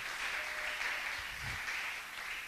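A church congregation applauds steadily and evenly throughout, a dense wash of clapping heard at moderate distance with a low rumble briefly rising beneath it.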